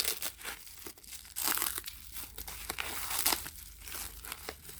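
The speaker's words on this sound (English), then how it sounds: "let me unwrap the strap too" Crinkly plastic packaging being unwrapped from a Coach purse strap, with repeated close, loud crumpling and short tearing bursts throughout and no talking.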